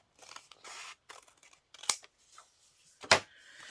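Scissors snip through material in a close, quiet room. Two crisp, sharp cuts stand out, one near the middle and one near the end, with soft rustling and handling noises around them.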